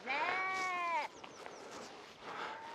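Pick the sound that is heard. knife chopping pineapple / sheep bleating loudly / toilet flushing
sheep bleating loudly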